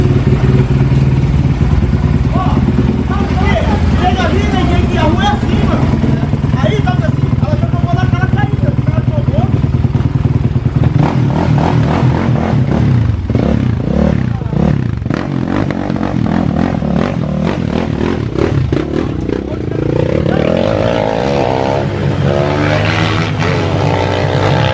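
Honda CB 300 motorcycle tuned to run on nitromethane, engine droning steadily and loudly, rising and falling as it rides off and returns, with voices talking over it throughout.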